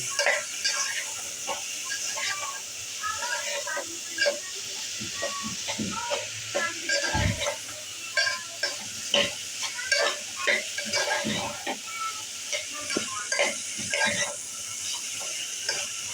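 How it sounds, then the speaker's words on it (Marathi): Sprouted moong beans sauté in a hot pan, with a continuous soft sizzle and frequent scraping, clinking stirs of a spatula, and some background talk now and then. "आता हे मी मूग टाकून घेते ह्याच्यात आता आपण चांगलं परतून घेऊया"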